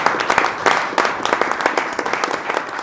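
Studio audience at a French TV broadcast claps steadily on cue as a guest is called up, dense even applause close and loud throughout with no break.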